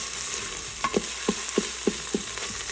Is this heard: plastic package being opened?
no